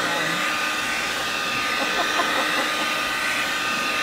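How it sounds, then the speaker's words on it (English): A blow dryer roars steadily at close range, aimed at a frozen camper van in a winter snowstorm, its airflow a constant unbroken rush with no talking over it. "I have a good old blow dryer. Let's see if that does it."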